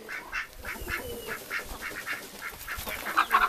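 Ducks and geese in a barn, among them a Muscovy duck, a runner and a crested duck, give repeated quacks and honks in an uneven rhythm, moderately close, with a louder cluster of calls at the end.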